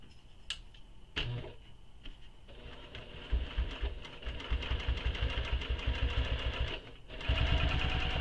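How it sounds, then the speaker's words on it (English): Sewing machine stitching a handbag seam, a steady mechanical whir with rapid rhythmic needle clatter in bursts, pausing briefly near the end before resuming louder. "So I'm going to stitch all the way up to that line that I made"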